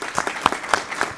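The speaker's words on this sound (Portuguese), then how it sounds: "eu até pediria uma salva de palmas para a Henriqueta" Scattered applause from a panel audience at a conference, a handful of separate claps spaced irregularly rather than a full ovation, fairly faint and brief.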